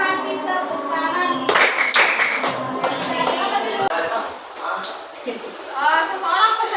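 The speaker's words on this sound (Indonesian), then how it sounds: "Kalau kau suka hati tepuk tangan." A classroom of students claps hands along to a sung Malay children's song during a school guidance lesson, rhythmic group clapping mixed with singing voices, loud and close.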